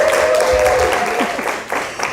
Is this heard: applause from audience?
yes